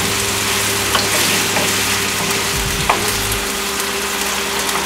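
Food fries in a pan while pancit is being cooked, giving a loud, steady sizzle throughout with a few soft stirring knocks, close up and with no talking.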